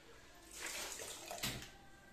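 Peeled shrimp are rinsed under running water, a soft rushing and splashing that swells twice over a couple of seconds, close and fairly quiet, with no talk.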